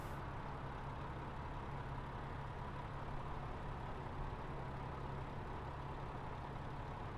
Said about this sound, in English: So this is the airport environment, cars passing by